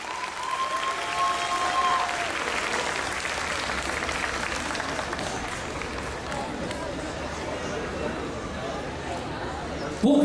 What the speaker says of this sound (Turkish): Bu güzel tabloya daha da kuvvetli alkışlar yaraşır, yakışır diye düşünüyorum.